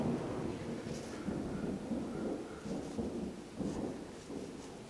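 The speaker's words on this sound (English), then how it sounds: "Getting that Florida thunder." Low, rolling Florida thunder rumbles steadily in the distance, with a few swelling peaks and faint rain hiss in the background.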